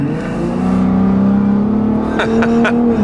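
A Ford Raptor truck's exhaust revs up loud and close, a rising engine drone that holds steady and then climbs again near the end, with a faint voice in the background.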